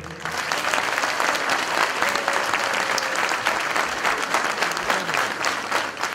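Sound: audience applause after a song

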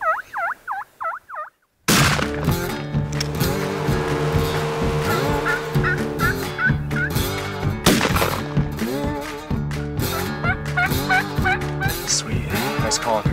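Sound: wild turkey gobbling

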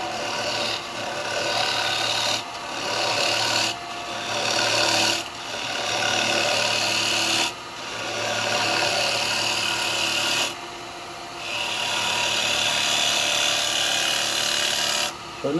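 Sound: gouge cutting wet eucalyptus on a wood lathe

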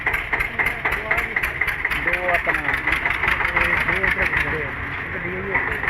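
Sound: tractor engine idling

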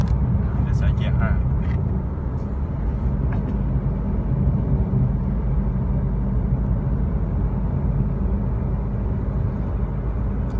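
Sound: Isuzu 1.9 Blue Power vehicle driving in fifth gear

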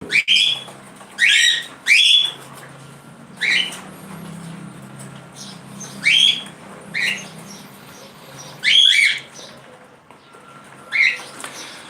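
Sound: breeding cockatiels, Lutino and Whiteface, squawking

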